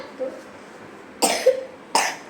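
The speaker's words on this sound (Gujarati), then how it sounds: "હજી ઉધરસ તો ચાલુ છે થોડી થોડી" Two sharp, close coughs from someone in a home, separated by a short pause, with faint vocal murmurs before and between them in an otherwise quiet room.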